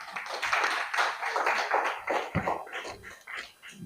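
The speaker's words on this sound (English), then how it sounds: "So give yourselves a round of applause." Audience at a teachers' debate final clapping for themselves, uneven and moderately loud, with scattered individual claps and light crowd noise.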